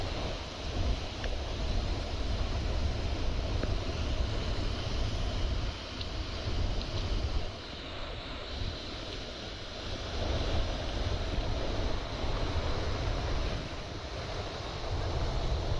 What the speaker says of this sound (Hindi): this is the waterfall